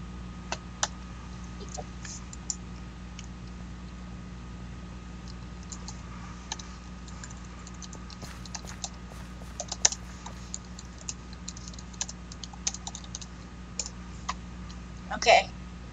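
Keystrokes tapped on a computer keyboard while setting a hotkey before a Minecraft game, scattered irregular clicks at close range over a steady hum, with a brief louder burst near the end.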